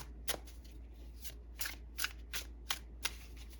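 Fairy Tarot cards are shuffled by hand in a quiet room, giving about eight crisp, papery riffling bursts at an uneven pace, close and fairly soft, with no voices.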